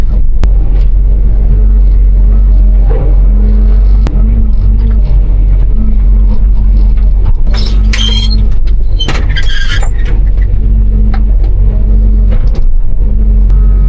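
An excavator engine runs at a loud, steady, low rumble with rising revs while operating, and metallic squeals and scraping come in bursts midway through.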